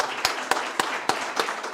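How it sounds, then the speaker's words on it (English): A handful of people clap in a slow, sparse rhythm, five or six distinct claps spaced about a quarter second apart, for graduating doctors at a doctoral graduation ceremony. "Let's have a round of applause"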